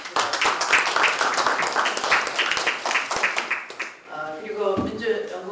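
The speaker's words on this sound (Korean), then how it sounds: "박수 한번 보내주시기" Applause from a Democratic Party supreme council meeting, a dense crowd clapping for several seconds before fading, after which a single voice begins speaking.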